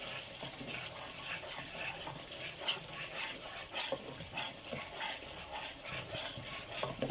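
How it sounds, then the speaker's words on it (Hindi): Ground spices with black pepper and dried coriander being stirred and fried in ghee for daal mash, a steady soft sizzle with faint scraping of the spoon running throughout, alone. "यहाँ पे हम मसाले को अच्छे तरीके से भूनेंगे"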